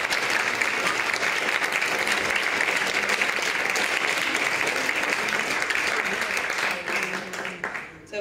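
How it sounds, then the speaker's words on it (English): An audience gives a sustained round of applause to honor a guest at a talk on activism, dense steady clapping that holds for several seconds before thinning and fading near the end. "So let's give a round of applause to honor our guest."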